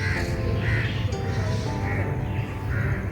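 A bird, likely a crow, caws in repeated harsh calls spaced about a second apart, set against a loud, dense outdoor background.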